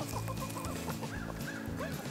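A hen clucking close by in a series of short, irregular clucks, steady and clear with no talking.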